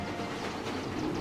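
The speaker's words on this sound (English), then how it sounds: "The brand new little Titipo is doing a test run." The animated train Titipo, brand new from the production plant, rumbles along on a test run, a steady rolling rail noise with soft clatter throughout and no voices.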